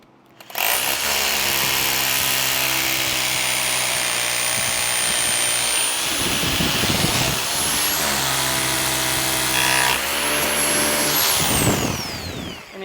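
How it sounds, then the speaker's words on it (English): A power drill drives a Tapcon screw into a window frame during a window installation, a loud steady whine running almost continuously with slight shifts in pitch and load, then spinning down at the end. "he comes in with his tap con, drills that one in"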